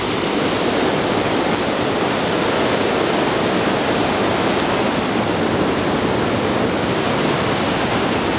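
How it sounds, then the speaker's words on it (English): Steady, dense roar of falling water from a waterfall in Bells Canyon, broadband and unbroken throughout, close and loud with no voices. "Waterfall number two."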